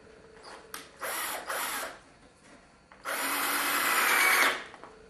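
A drill drives a screw into wood at a workbench: two short whirring bursts, then a longer steady run of about a second and a half, close and fairly loud against a quiet background.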